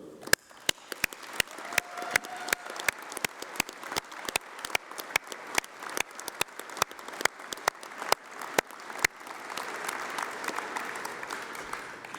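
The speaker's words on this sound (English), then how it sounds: "let's have a round of applause for all those special people" A university graduation ceremony audience applauds steadily for several seconds, sharp claps dotting a dense wash of clapping that softens toward the end.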